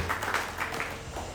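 A church congregation applauding the Lord during a Sunday service: a brief burst of dense, moderately loud clapping from many hands, roughly even throughout.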